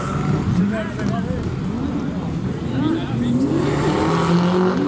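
A Porsche rally car at the Rally de Wallonie, its engine droning and shifting pitch as it passes at a distance, under continuous commentator talk.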